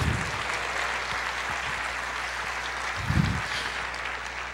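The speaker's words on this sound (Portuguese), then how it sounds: "Pode aplaudir, diga eu creio." A church congregation applauds, a steady wash of clapping from many hands filling the room at moderate loudness, with brief low thumps rising over it.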